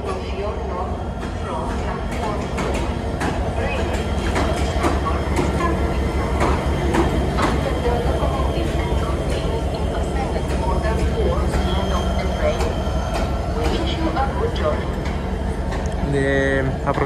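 A Bucharest–Pitești train rumbles and clatters as it pulls into Bucharest Gara de Nord station, with rhythmic rail clicks and squeals, and a station announcement voice over the noise.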